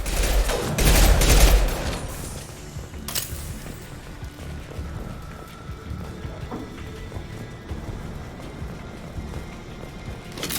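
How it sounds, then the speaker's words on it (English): Gunfire in the video game Mass Effect 2, a loud rapid fusillade of shots in the first seconds, then continuing combat rumble and scattered impacts at lower level. "Shoot with Archangel!"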